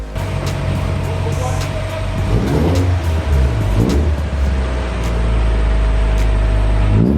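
A Honda Civic, freshly rebuilt and lowered, on its first drive: a steady, loud engine drone with road rumble rising and settling through the run, no voices.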